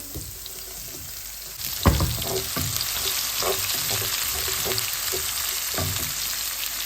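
Whole coriander seeds, coarsely crushed coriander and green chili sizzle steadily in a hot pan, with stirring scrapes and a sharp clank near two seconds, close and continuous with no talk.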